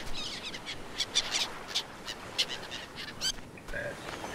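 Seagulls in the video game Stranded Deep give faint, scattered squawking calls against a soft ambient wash, several short cries spread across the moment.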